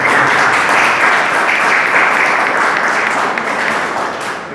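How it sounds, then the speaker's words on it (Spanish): An audience at a cultural event gives a round of applause, dense loud clapping that holds steady and then begins to taper off toward the end. "Un aplauso para la mesa porque ya está trabajando."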